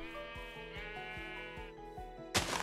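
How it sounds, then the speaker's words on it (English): A Minecraft sheep gives a drawn-out, nasal bleat over steady game music, and a short burst of noise cuts in at the end. "Shut up, sheep."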